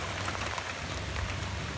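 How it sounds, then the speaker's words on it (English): Heavy rain pours down steadily outdoors near a doghouse and rabbit enclosure, a dense, continuous hiss of drops on surfaces at even loudness with no voices. "it's raining so hard"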